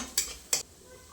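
A spoon scrapes twice across a pan while spice masala with ginger-garlic paste is sautéed for a chicken samosa filling, two quick, crisp strokes over a faint low background.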